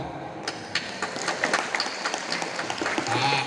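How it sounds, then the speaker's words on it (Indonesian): Audience at a school sports-and-arts opening event claps in a loose, uneven burst, scattered sharp claps building into a moderate patter over a few seconds, slightly distant. "Geus atuh dikeprokan ieu."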